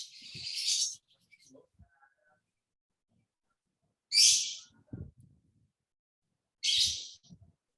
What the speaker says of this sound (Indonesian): Burung bluebird, lovebird